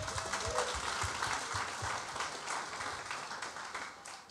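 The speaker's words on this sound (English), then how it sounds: "so give them a big round of applause." An audience at a student awards ceremony applauds steadily, a dense wash of many hands clapping at an even level throughout, heard from a moderate distance in a large hall.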